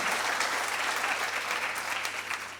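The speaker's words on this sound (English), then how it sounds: "I think that deserves a massive round of applause" An audience at an Irish women's sport awards ceremony claps loudly and steadily, a dense, sustained round of applause from a large crowd.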